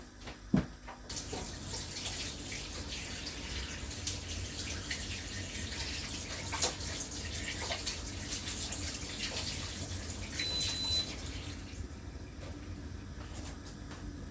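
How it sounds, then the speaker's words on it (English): Hands are washed under a running kitchen tap during cooking, a steady, moderately close gush of water with no talking. "I'm gonna wash my hands"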